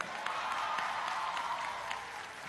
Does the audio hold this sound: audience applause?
yes